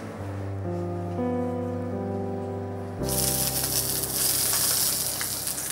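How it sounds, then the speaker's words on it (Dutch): A pigeon frying in a pan begins as a quiet sizzle under a tonal hum, then bursts into loud, dense spitting and crackling for the final few seconds. "Dan gaan we ons duifje bakken."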